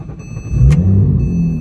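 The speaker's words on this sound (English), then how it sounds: "the car's now warm, so I'm gonna do a hot start here" A warm Porsche 911 Turbo tuned past 1200 horsepower starts hot: a short cranking whir, then the engine catches abruptly and settles into a loud, steady, close idle rumble.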